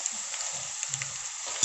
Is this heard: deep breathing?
no